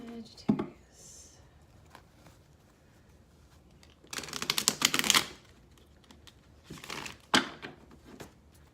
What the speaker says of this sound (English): Cards are getting a little bit harder to shuffle.